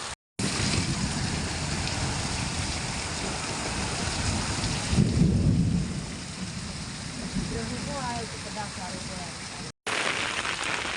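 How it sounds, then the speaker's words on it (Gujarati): Heavy rain pours in a loud, dense roar that briefly cuts out twice, with a low rumble swelling midway that could be thunder or water rushing past. "पानी वरसाद पावरफुल पड़ी रह्यो छे"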